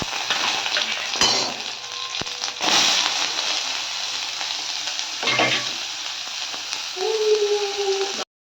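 Steady, close sizzling of onions frying in oil, with a few stirring scrapes and clinks breaking through the hiss.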